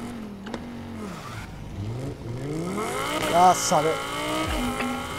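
Lamborghini Huracan engine in the racing game NFS Heat, revving and rising in pitch under a brief spoken line, with faint tire squeal as the car accelerates.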